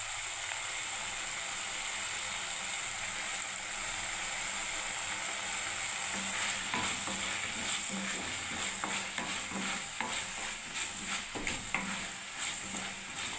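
Cabbage curry masala fries in oil, a constant close sizzle that becomes busier halfway through as a spatula scrapes and taps the pan in quick irregular strokes.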